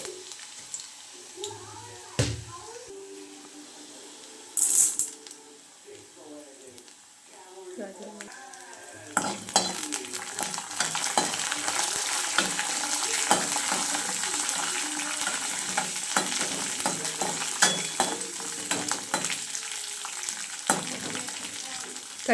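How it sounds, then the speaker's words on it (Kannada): Chopped garlic and chana dal fry in a pan for egg burji: a few quiet clinks and stirs at first, then a louder, dense crackling sizzle with scattered pops that rises and continues to the end. "ಬೆಳ್ಳುಳ್ಳಿ ಫ್ರೈ ಆಗಲಿ ಅಂತ ಹೇಳ್ಬಿಟ್ಟು ಸ್ವಲ್ಪ ಅದ್ರ ಜೊತೆಗೆ ಕಡಲೆಬೇಳೆ"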